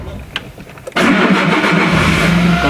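A first-generation Citroën Saxo engine cranks briefly, then catches and settles into a steady, loud idle that fills the rest of the recording at close range, with no voices.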